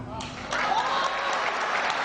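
Audience applause at a live stage event in Raipur, honouring a technical achiever, a dense wash of clapping that swells louder about halfway through and stays steady, with a voice faintly underneath.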